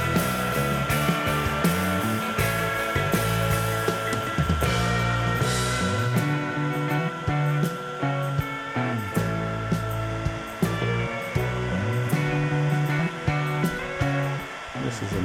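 Heat gun force-curing wood stain: a continuous loud blowing whoosh, close and unbroken, under a melodic background with a voice-like tone.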